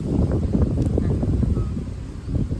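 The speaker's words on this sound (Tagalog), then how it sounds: "Lakas nga ng hangin." Strong wind outdoors under a tree buffets the microphone in a steady, close, rumbling roar with gusty surges throughout.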